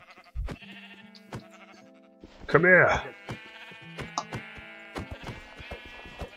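Sheep bleat in a Minecraft game, with one loud bleat standing out over steady game sounds and clicks. A player speaks briefly nearby.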